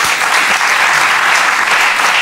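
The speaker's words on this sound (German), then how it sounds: "Hier kriegen Sie Applaus dafür im Jahre 2010" Studio audience on the German TV talk show Hart aber Fair breaks into loud, dense applause that holds steady throughout, with no pause or voice over it.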